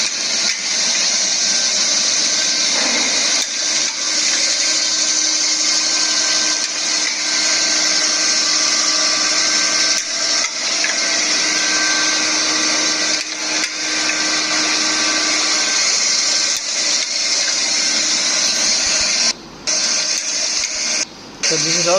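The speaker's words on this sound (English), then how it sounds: "grinding wheel." Vertical spindle surface grinding machine with a rotating work table running: a loud, continuous high whine and hiss with a steady tonal hum, almost unbroken apart from two brief dropouts near the end.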